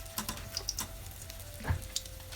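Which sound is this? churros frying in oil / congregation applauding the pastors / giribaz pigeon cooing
churros frying in oil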